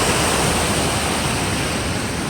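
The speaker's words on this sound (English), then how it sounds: "Look at the power that comes down there." A powerful waterfall at the Delaware Water Gap roars as a steady, loud, broadband rush, filling the scene without pause and with no voices.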